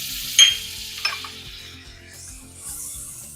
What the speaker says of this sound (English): And this is just to saute my shallot